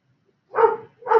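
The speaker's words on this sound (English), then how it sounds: "My puppy is getting all wound up in the living room." A puppy in another room, the living room, gives two short yelping barks with a whiny edge, fairly clear against silence.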